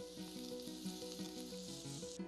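Llanero sofrito for a duck asopado fries in a pot with a steady, close hiss and sizzle that runs throughout, under light background music.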